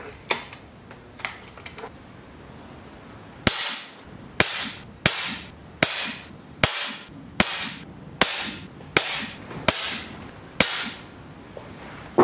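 Air rifle firing .22 Barracuda Power copper pellets on medium power: a quiet stretch with faint clicks, then eleven sharp, evenly spaced shots, each a crisp crack with a brief tail, close and loud.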